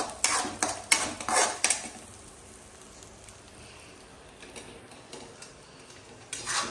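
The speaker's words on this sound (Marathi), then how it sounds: "तर असं छानपैकी मिक्स करून घ्यायचं आहे" A spoon scrapes and clatters against a pan while masala drumstick vegetable curry is mixed, a burst of sharp clinks at the start, then quieter stirring, with a few more taps near the end.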